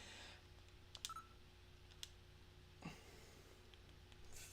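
Telephone number being dialed in the Sega CD game Snatcher: a few faint, brief keypad tones and clicks spaced about a second apart over a quiet, humming background.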